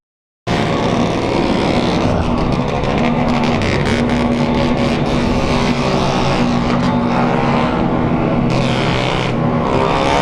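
A big crowd of motorcycles rides past on a street in São Paulo's east side, more than a hundred bikes, their engines merging into a loud, continuous roar and drone that rises abruptly and stays close and dense throughout.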